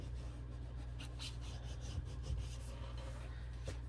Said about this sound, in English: burnish that down really good